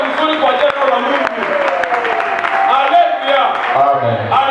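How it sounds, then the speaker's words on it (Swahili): Congregation clapping together during a church sermon, a steady, dense wash of applause that carries through the whole stretch with a voice faintly underneath. "Ongeza makofi ya mzuri kwa jina la Mungu"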